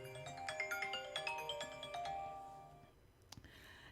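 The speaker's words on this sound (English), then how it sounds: "My phone's just belling off." A mobile phone ringtone plays a bright, chiming melody of quick repeated notes for about three seconds, then breaks off, followed by a single faint click.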